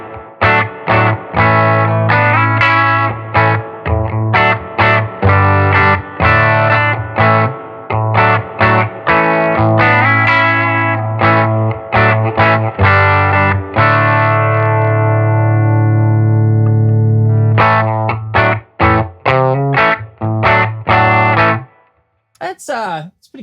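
Electric guitar played through a Silktone Echonaut tube amp with its reverb engaged, a run of plucked notes and sustained chords ringing out with a wet, echoing tail, loud and continuous before stopping abruptly near the end.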